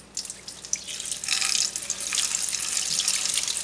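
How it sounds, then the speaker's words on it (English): Water runs from a tap as alfalfa sprouts in a strainer are rinsed, swished and drained, a steady splashing hiss with small drips, close and continuous without talk. "And then one more little swish around, and just drain them out."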